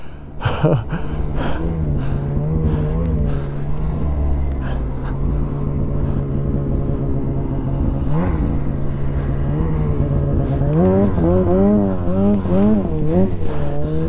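A Lynx snowmobile with a 146 track churns through deep snow, its engine droning loud and close throughout, with revs surging in waves near the middle and end.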